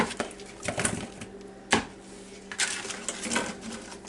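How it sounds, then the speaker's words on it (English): Strawberries are diced with a knife on a cutting board, giving irregular sharp chopping taps and scrapes of the blade against the wood, close and moderately loud. "I'm going to start off with dicing my strawberries"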